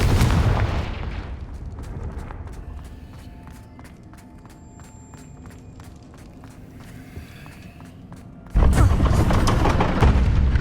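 In the Hogwarts Legacy video game, a Confringo spell sets off a forceful burst at the opening. Quieter game sounds with light chimes follow, then a second loud blast hits near the end. No speech.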